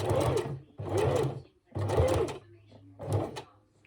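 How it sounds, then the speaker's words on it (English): A sewing machine runs in four short, close bursts while making a small triple stitch at a stress point on a stuffed memory bear, with brief pauses between the bursts. "So what I do there is I just do a mini triple stitch."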